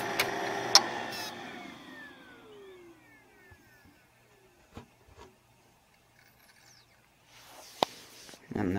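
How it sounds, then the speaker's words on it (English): The hard drive of a Kanguru DVD duplicator spins down, its whining tones sliding steadily lower and fading over about three seconds. A few faint clicks and knocks follow in near silence. "I'm just gonna put it up to the hard drive so you can hear it spin down."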